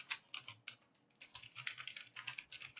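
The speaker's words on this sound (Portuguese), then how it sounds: "Que eu estou digitando" Rapid, irregular typing on a computer keyboard, close and fairly quiet, with clustered bursts of keystrokes and short pauses between them, no talking.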